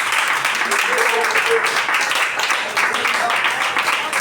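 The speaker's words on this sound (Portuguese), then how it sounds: "bate a salva de palmas para Jesus." A church congregation clapping for Jesus during a Holy Supper service, a steady continuous patter of many hands with voices mixed in underneath.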